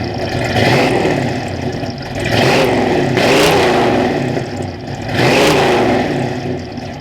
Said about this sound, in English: this is a very, very good sounding V8 engine